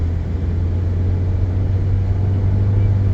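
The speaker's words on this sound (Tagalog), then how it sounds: "Wow, ang daming sasakyan." Road traffic with many cars passing: a constant low engine rumble and hum that stays steady and prominent from start to finish.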